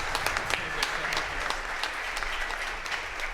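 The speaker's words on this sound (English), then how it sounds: "can we give another round of applause to Jed and Hyman?" Audience applauding at a brass ensemble concert, a dense, steady wash of many hands clapping close by for a few seconds, with scattered louder claps standing out.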